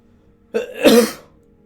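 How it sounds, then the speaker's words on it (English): A single throat-clearing cough with something caught in the throat, close and fairly loud, rising sharply then trailing off over about half a second, with quiet before and after. "That wasn't a foamy cough, it was just something stuck in my throat"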